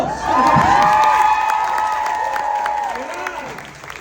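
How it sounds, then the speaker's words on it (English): A live audience at a Detroit tour show cheers and applauds after someone wins tickets, loud whooping and shouting voices rising over clapping, then gradually fading. "she won! Round of applause!"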